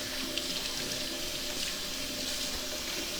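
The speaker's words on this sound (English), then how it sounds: "I'll rinse my hands a little bit." Tap water runs steadily as hands are rinsed under a faucet, a constant, fairly loud splashing hiss that continues without a break and without speech.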